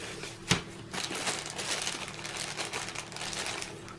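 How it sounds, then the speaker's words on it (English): A small plastic bag from an everyday-carry zip pouch crinkles and rustles as it is handled and opened, with a sharp tap near the start and then continuous close, light crackling. "I have a small plastic bag, which I'll just show you what's in there."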